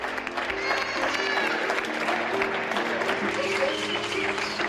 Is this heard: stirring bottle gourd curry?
no